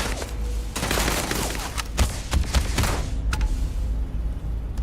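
Gunfire in the Starfield video game rattles in a loud volley of rapid shots, breaking into a few separate cracks before fading into quieter game ambience.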